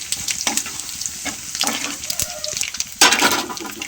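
A tempering of mustard seeds, chana dal and cumin crackles in hot oil for a tomato pickle: a continuous close sizzle with spatters from stirring, then a louder, sudden burst of frying near the end.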